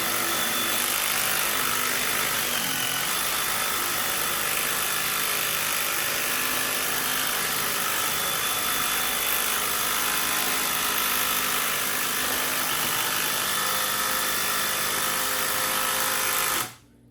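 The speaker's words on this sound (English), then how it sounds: "The Milwaukee, even though the clutch is going off, it is still barely moving the screw down in" Ryobi USB Lithium and Milwaukee M12 Fuel electric screwdrivers run together while driving screws, giving a continuous high-pitched motor whine that holds steady and loud before cutting off abruptly at the end, with no talking.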